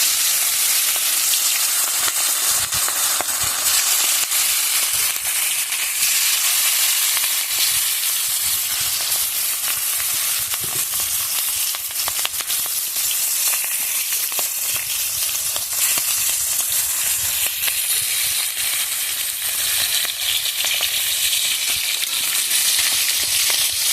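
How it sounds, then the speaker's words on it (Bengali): Salted, turmeric-coated fish frying in hot oil at an outdoor cooking spot, a loud, dense, continuous sizzle with crackling spatters that persists throughout without any speech. "এখন তেলটা গরম হয়ে গেছে, মাছটা ছেড়ে দিলাম।"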